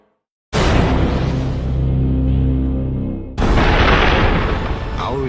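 A huge explosion boom standing for the Big Bang bursts in after a moment of silence with a deep rumbling roar, then a second heavy blast hits a few seconds later, loud and close.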